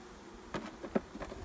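Honey bees from a package being installed into a hive give a few short, close buzzes that flare and fade over quiet background, with no talking.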